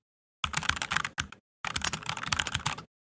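Rapid typing on a computer keyboard, imitating a customer rep, comes in two close, dense bursts of clattering keystrokes separated by a short pause, with silence before and after.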